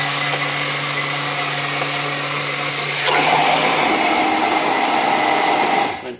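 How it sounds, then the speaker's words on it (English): A steady, loud motorized whir of an immersion blender running continuously through Lebanese garlic sauce, its pitch shifting midway as it churns, then cutting off at the end. "We're going to go ahead and zip it up with the immersion blender."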